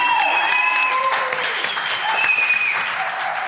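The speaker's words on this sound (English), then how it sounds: "Big round of applause" An audience at a live show in Eastern Market Brewing, Detroit, gives sustained, lively applause with a few whistles and cheers riding above the clapping throughout.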